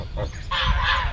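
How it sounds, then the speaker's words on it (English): Geese in an early spring forest garden give a couple of loud, close honks in quick succession. "Would you like any geese?"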